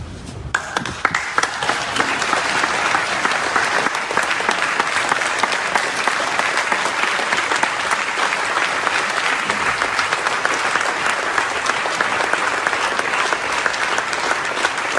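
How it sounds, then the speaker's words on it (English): Standing ovation for a pastor, sustained loud applause from a crowd that keeps up a dense, even clapping for the whole stretch. "a standing ovation for that"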